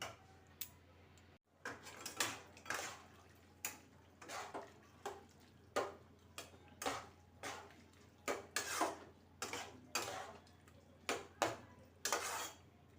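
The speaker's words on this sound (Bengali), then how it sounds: "দেখছো গ্রেভিটা ফুটছে" Soft, irregular pops and plops repeat every half second or so as thick tomato gravy for chilli chicken bubbles quietly in a pan.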